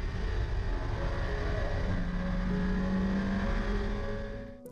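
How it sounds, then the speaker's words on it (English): A car driving through the corners of the Gillies Range, a steady engine drone heard from inside, its pitch rising and shifting as it climbs, loud throughout and fading at the very end, no talk. "Just amazing the way a car can hook into the corners"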